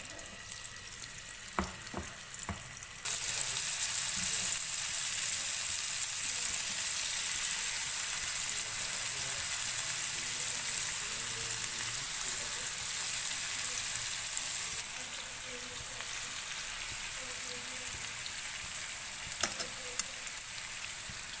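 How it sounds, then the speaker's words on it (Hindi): Chicken frying in 4 to 5 tablespoons of hot oil in a pan: a steady, close hiss and sizzle runs throughout, growing louder after the first few seconds and easing slightly near the end, with faint clinks and stirring. "ऑयल गर्म हो गया है, अब हम इसके ऊपर चिकन ऐड करेंगे।"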